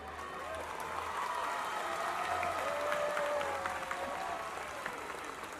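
Audience applauding at a school's annual day function, a steady wash of clapping from a large crowd that holds for several seconds, with music and voices faintly underneath.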